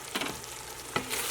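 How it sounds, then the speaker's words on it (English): Flour sprinkled over sautéed vegetables in a pot for pot pie and stirred, with two brief spoon scrapes cutting through a soft, steady sizzle close by. "I'm just going to sprinkle it around like that, well plump, and give it a stir."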